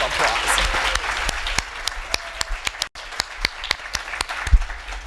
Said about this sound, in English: I think we should all give the team really a good round of applause.